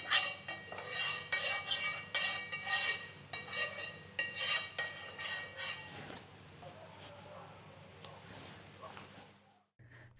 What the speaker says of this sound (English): I'm going to put a little bit of coconut oil on my hot plate here. Spread it around.